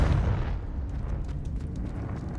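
A Confringo fire spell blasting in the Hogwarts Legacy game, a loud rumbling explosion that erupts at once and then rolls on as a sustained roar with crackling debris over the full stretch.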